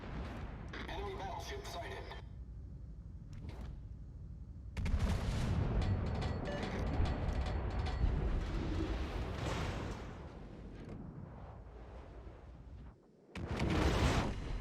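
Naval gun salvos from warships in the World of Warships online game: heavy booming bursts of broadband rumble that roll on for several seconds. An in-game voice briefly announces a sighting over them.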